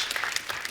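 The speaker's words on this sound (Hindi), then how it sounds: "जोरदार तालियां सबके लिए।" Audience applause at a comedy talk show taping with the film star cast on stage, a short burst of steady, dense clapping from a studio crowd with no voices over it.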